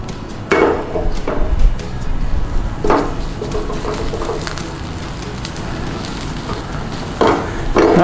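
Beaten egg frying in a pan and setting into an omelette, a soft steady sizzle and crackle with occasional louder scrapes or taps against the pan.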